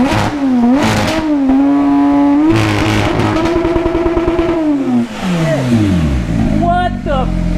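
A Porsche GT3 fitted with a titanium exhaust revs up hard toward 9,000 RPM, its loud, shrill engine note climbing and falling in repeated sweeps, with voices audible beneath it.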